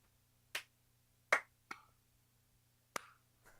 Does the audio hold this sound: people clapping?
yes